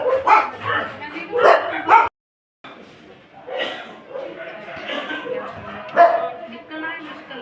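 Stray dogs in a town neighbourhood bark and yip in short bursts, close and loud, mixed in with someone talking throughout, with a brief silent gap partway.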